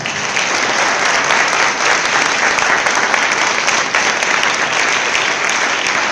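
Loud, dense applause for a son at a worship gathering, with the crowd clapping continuously and evenly at full volume throughout.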